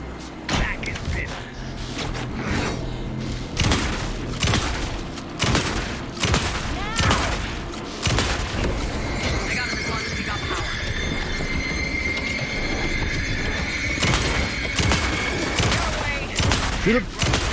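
Rapid bursts of gunfire ring out in the video game Alan Wake II, loud repeated shots in quick succession, with mechanical clatter and a voice shouting over the action.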